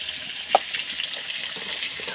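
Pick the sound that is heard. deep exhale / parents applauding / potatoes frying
potatoes frying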